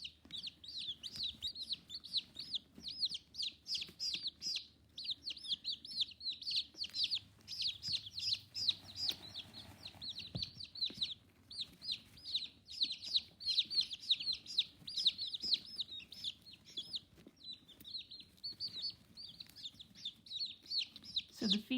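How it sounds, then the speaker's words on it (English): Newly hatched baby chicks peep constantly in a dense, high-pitched chorus of rapid, overlapping chirps, fairly quiet and close, with faint low background noise underneath. "Now you can see more baby chicks."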